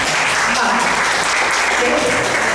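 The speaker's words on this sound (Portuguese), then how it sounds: "palmas, vai, gente" Audience applause from a crowd at a teaching session, dense steady clapping filling the whole moment at close range.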